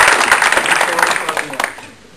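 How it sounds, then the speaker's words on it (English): Indoor audience gives a short round of applause for Jeff, dense clapping up front that thins and fades away within about two seconds. "So big round of applause for Jeff."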